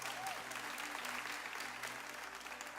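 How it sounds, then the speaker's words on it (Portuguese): Church audience applauding Pastor Eric, a steady crowd of clapping hands filling the space, with a faint low hum beneath. "o Pastor Eric, vamos aplaudir ele mais uma vez?"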